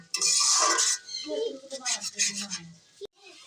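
A spoon stirs chicken biryani masala in a pot, giving close, uneven scraping and clinking of metal against the pot. The strokes come in bursts with brief pauses between them.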